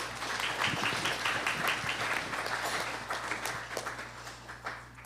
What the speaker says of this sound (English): If we could give an applause for our judges and our alum